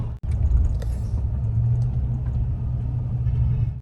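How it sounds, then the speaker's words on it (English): Car rolling into a Walmart parking lot at night, a low steady engine rumble close by, with a brief sharp knock near the start and a few faint clicks over the drone. "I'm pulling into Walmart here"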